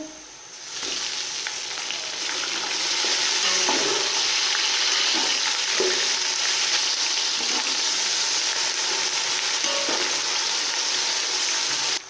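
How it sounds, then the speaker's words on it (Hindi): A continuous, even sizzle of ginger garlic paste frying in a hot pan, with faint stirring scrapes now and then, no talking. "अदरक लहसुन का पेस्ट फ्राई हो चुका है।"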